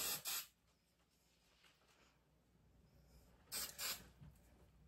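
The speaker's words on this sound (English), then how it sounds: "we're gonna put on a little hairspray on the sides" Hairspray from an aerosol can misted onto the sides of a styled head of hair, two short hissing sprays at the start and another pair near the end, with quiet pauses between.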